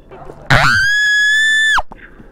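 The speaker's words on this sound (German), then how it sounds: "Schrei mal ein bisschen rum." A person lets out one loud, sustained scream of about a second and a quarter, high and strained, from close by, with brief chatter before it.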